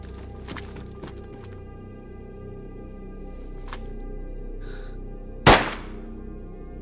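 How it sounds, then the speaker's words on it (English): A single loud gunshot in the video game DayZ, set in Esseker, cracks out sharply about two-thirds of the way in, well above a steady background hum with a few faint clicks. "Gunshot in Esseker."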